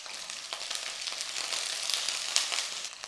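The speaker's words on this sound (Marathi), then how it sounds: "आता आपल्याला एक एक करून भाज्या फ्राय करायच्या तर पहिल्यांदा मी फ्लॉवरचे तुरे टाकते" Cauliflower florets fry in medium-hot oil, giving a soft, steady sizzle with light crackles, close but fairly quiet throughout.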